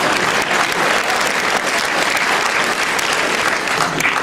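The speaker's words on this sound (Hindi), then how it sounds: "एक बार तालियां बजा दीजिएगा" An audience claps in a loud, continuous round of applause, many hands beating evenly throughout with no voices rising above it.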